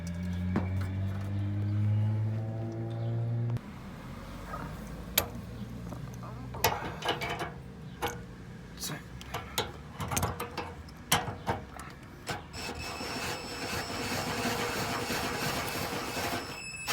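A ratchet tightens screws on the fender of a 2006–2014 Chevy Impala, producing a run of close, sharp mechanical clicks and ticks in irregular bursts, with a steady hum beneath.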